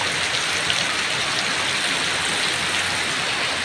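Heavy rain pours down steadily in a dense, unbroken hiss, loud and close throughout, with no voices.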